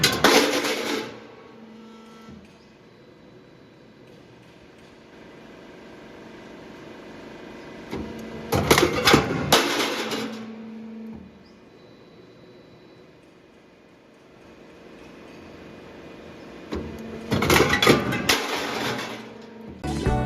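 An automatic floor deck roll forming machine runs through its cycle, with a low mechanical hum and two loud, harsh bursts of clanking and grinding spaced several seconds apart.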